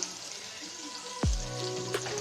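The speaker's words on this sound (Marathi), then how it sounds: "आणि कांदा थोडा लालसर होईपर्यंत परतून घेऊया।" Chopped onion sautés in hot oil in a pan, a steady close sizzling hiss that swells briefly with a sudden whoosh partway through, then keeps frying evenly.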